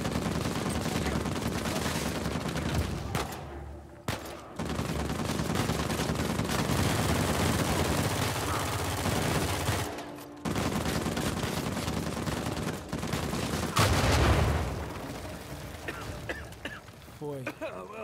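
Dense, sustained gunfire and explosive action in Uncharted 4 multiplayer form a loud, continuous wall of noise, broken by two brief drops near the middle and fading toward the end, with a voice talking over it.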